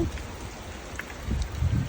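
Heavy rain falls steadily during a typhoon in Japan, a broad continuous wash of drops with low rumbling gusts swelling toward the end.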